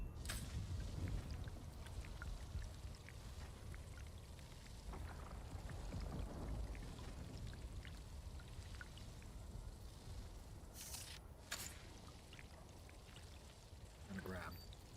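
Water being collected in the Dune: Awakening video game, a steady pouring, trickling wash of liquid running throughout, with brief brighter splashes near the end.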